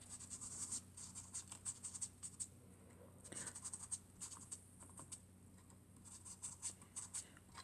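Coloured pencil or marker shading a light pink background on paper, a steady soft scratchy stroking that repeats in quick bursts, close and quiet, with a low background hum.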